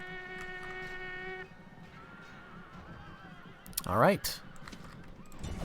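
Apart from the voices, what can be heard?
horses neighing and hooves in a medieval battle video game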